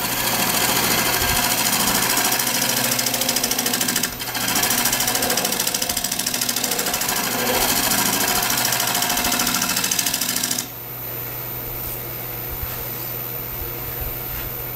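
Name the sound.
wood lathe spinning a cottonwood burl bowl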